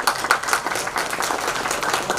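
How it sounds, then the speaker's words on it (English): An audience at an international health informatics conference claps steadily in a brisk, dense round of applause that fills the room from start to finish, with no voices over it. "Let us give a big round of applause and heartfelt appreciation to all those who contributed to making this event a grand success"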